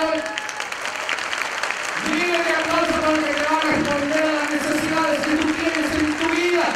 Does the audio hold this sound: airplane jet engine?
no